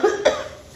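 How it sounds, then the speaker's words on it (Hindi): Two sharp, close coughs from a woman, the first loud burst followed a moment later by a second, with a short rough tail trailing off. "बड़ी जोर आई थी खांसी"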